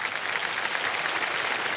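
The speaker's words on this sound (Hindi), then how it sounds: "तालियां बज जाए इनके लिए।" Studio audience applause on a Hindi TV quiz show set, a dense, steady wash of many hands clapping at once, loud and even from start to finish with no voices over it.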